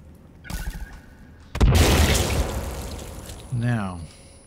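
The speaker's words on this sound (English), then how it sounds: "we gotta throw another grenade" A grenade explodes in the video game Sons of the Forest, a single loud boom with a rumbling, crackling tail that fades over a couple of seconds, with a voice speaking briefly before and after.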